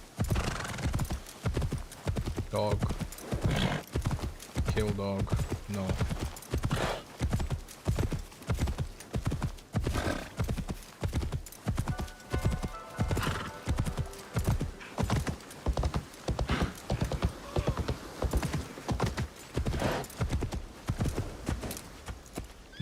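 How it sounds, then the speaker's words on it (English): A horse in a video game trots along, steady clip-clop hoofbeats repeating evenly for over twenty seconds with an occasional whinny, and faint background sound beneath. "My horse doesn't run anymore."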